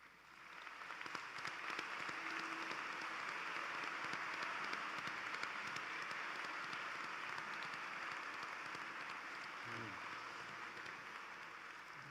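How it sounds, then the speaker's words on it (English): A large commencement audience applauds faculty and staff in a long, even roar of clapping that rises quickly at the start and holds steady, with a faint voice briefly audible near the end. "as we all express our thanks with applause"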